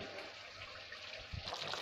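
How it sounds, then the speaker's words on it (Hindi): Fish is rinsed for a dhaba-style curry under steadily running tap water, a continuous close splashing rush with a soft thump of handling near the end. "जैसा कि हमने 4 से 5 पानी से इसे धोया है, अच्छे से वॉश करेंगे"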